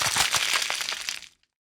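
Ice cubes crack and crunch in a miniature toy kitchen, a close burst of sharp, brittle snaps lasting about a second before cutting to silence.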